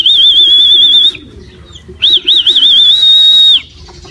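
Two bright, wavering whistles ring out near and loud while racing pigeons arrive at a loft, the first about a second long and the second longer, with quiet background between them.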